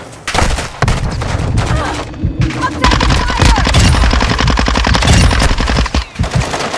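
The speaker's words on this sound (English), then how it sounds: "You are taking effective fire." Loud, close automatic gunfire from Call of Duty Warzone 2.0, with rapid bursts of shots rattling almost continuously and a brief pause near the start.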